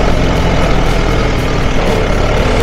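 A tractor works a sugarcane harvest field, its heavy diesel engine droning loud and close in a steady, unbroken rumble, with no talk over it.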